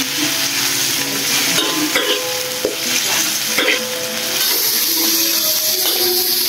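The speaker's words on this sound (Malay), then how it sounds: "Lepas tu kita akan tumis dia sampai dia warna." Pounded spice paste frying in a pan for nasi goreng, a loud, steady sizzle close up with the scrape and clatter of a spatula stirring it around, no talking.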